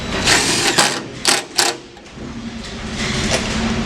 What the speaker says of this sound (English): with your clip, you want to add a couple self-tapping screws that are in your accessory pack